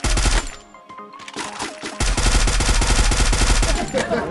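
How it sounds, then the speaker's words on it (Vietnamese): Rapid automatic gunfire from the Free Fire battle-royale game, with dense bursts that drop out briefly near the one-second mark and then resume loudly and continuously to the end. No one speaks over it. "Bên này nó đang bắn nhau."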